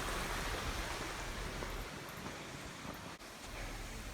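Continuous rushing of a mountain creek beside Grandeur Peak Trail in a rocky old-growth forest, a dense, steady, fairly loud wash of flowing water heard alone without voices.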